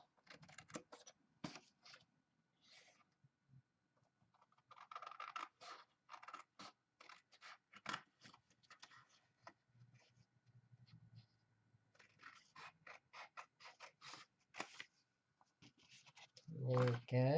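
Scissors snip out a paper shape in short, close, crisp bursts with pauses between, and a voice talks intermittently over the cutting.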